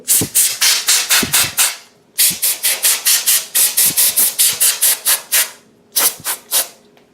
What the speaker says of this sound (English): use some compressed air just to blow any kind of dust away